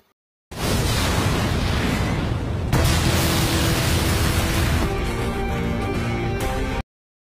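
A loud, sustained roaring blast inside a shop with crackling debris, surging again midway, then cutting off abruptly; no voices.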